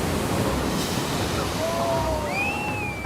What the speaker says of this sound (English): he notices a set of unusually large waves heading toward a small group of picture takers